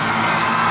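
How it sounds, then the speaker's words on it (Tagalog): A basketball crowd roars and cheers loudly at a professional league game between Pasig and Batangas, a dense, sustained wall of shouting and whooping filling the arena without a break. "And the crowd just goes wild."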